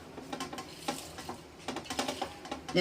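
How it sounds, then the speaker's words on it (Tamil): Roasted aval laddu mixture with fried chana dal is stirred and pressed together by hand, giving soft irregular scraping and patting sounds in short bursts, close and fairly quiet with no talk. "எல்லாம் ஒன்று சேர்ற மாதிரி இப்படியே நம்ம பிணைஞ்சு வச்சுக்கிறோம்"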